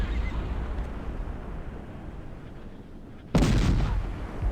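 Cannon and mortar fire in the PC strategy game Cossacks: Back To War, heard as a low rumbling battle din followed by one sudden loud blast that rings on at the end.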